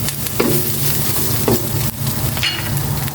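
Pork cubes frying in a pan for Bicol Express, a loud continuous sizzle broken by a few sharp clatters of stirring.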